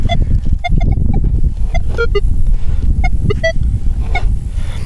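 Many short electronic beeps at varying pitches chirp rapidly from a Minelab Equinox 900 metal detector over loud low rumbling wind or handling noise.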